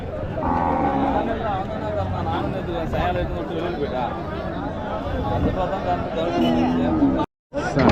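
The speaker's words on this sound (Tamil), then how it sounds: "நல்லா அழகான ஒரு சீம மாடு" Cattle mooing at a busy livestock market, with loud lowing calls over a constant crowd hubbub and people talking nearby, briefly cut out near the end.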